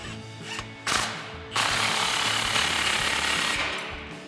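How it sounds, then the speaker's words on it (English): A socket tool tightens an exhaust clamp with a 16mm socket on a RAM 1500 exhaust install, giving a brief rattle, then a loud, sustained mechanical buzz of an impact or ratchet tool. "Now we can slide our clamp into place and tighten that down with a 16mm socket."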